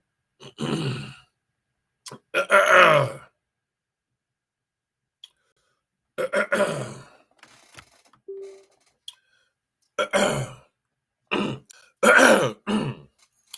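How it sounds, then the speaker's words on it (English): A man clears his throat in a series of separate rough, scraping bursts spread across a quiet stretch, close to the microphone, with silent pauses between the hacks. "let me I gotta clear my throat."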